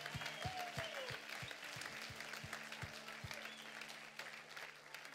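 A church congregation claps in praise, a soft distant patter of many hands under an ongoing low hum, with regular thumping beats and a faint voice running alongside.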